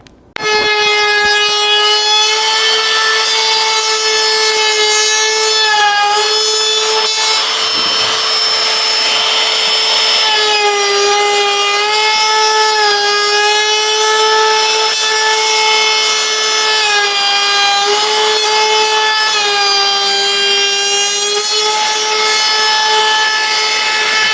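A small Ryobi power tool, likely a router, whines loudly and steadily while rounding the top edge of a wooden socket holder, its pitch dipping slightly as it bites into the wood.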